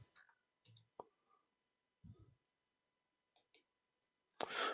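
Computer mouse clicks during network software setup, a few sharp, faint isolated clicks spread across quiet moments.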